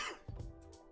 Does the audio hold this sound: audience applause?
no